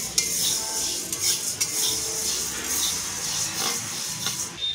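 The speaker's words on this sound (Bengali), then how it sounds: "কড়াইগুলোকে আগে কড়াইগুলো ভেজে নিচ্ছি শুকনো কড়াই" Whole dried peas being dry-roasted in a wok, stirred with a spatula: a steady dry rattling and scraping with occasional sharper clinks of metal on metal, close and fairly even throughout, with no talking.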